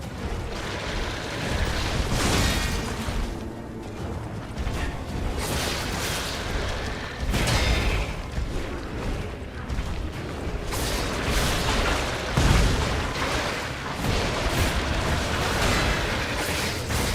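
Corpse enemies explode with repeated booming bursts and crashes in the video game Lies of P, dense and continuous game combat noise throughout without talk.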